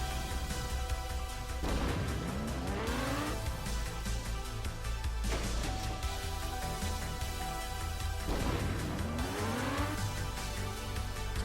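Racing car in TrackMania Nations Forever landing with a few small bumps and bounces over a steady engine drone, faint recurring thuds and tyre-like sweeps repeating every few seconds.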